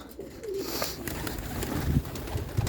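Pigeons in a loft, with low cooing and rustling close by, a steady dense murmur of birds and no talking.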